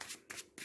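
A deck of cards for the Marvel Champions card game being shuffled: three quick riffling bursts, close and fairly quiet, with no voices.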